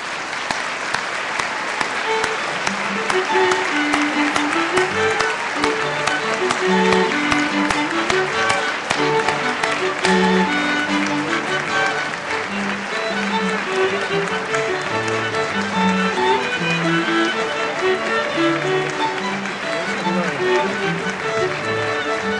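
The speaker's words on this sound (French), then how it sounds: "je pense que ça vaut la peine que vous vous leviez et que vous les applaudissiez chaleureusement" Graduates give their families a long, warm standing ovation at a 2010 university graduation ceremony in Gatineau, sustained dense clapping with music playing beneath it.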